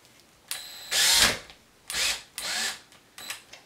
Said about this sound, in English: I will start by pre-drilling, by partially installing my screws